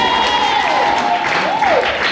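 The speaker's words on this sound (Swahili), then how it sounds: "Pigia Yesu makofi kama unanielewa" A congregation at a church sermon claps loudly and continuously, with a sustained gliding tone rising over the applause.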